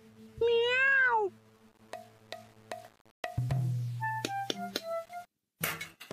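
A man imitates a cat with a drawn-out, rising and falling meow, followed by clinking and knocking sounds in an indoor scene from a Marathi TV serial.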